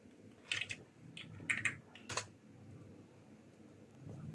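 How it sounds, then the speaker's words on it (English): Someone types on a Japanese computer keyboard beside a mini PC, three quick bursts of soft clicky keystrokes close by, followed by a quiet stretch. "I'm actually using a keyboard that I brought from Japan home."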